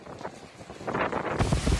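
Storm wind during a heavy downpour in Istanbul roars and buffets against the microphone, building into louder gusts in the second half.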